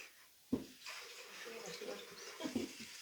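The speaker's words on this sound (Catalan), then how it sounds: "I se sentirà l'aixeta" Tap water runs steadily with a sudden onset, a continuous hiss that keeps going under people talking.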